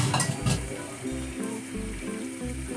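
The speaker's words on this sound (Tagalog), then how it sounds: "I-fry natin konti ang ating liver" Two pounds of beef liver fry in oil in a pan, a steady close sizzle with stirring and pan scrapes throughout.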